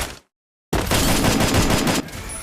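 Gunfire from a video game shooter landing a headshot: a dense, loud burst of rapid shots after a brief silence, lasting over a second before fading into quieter game noise.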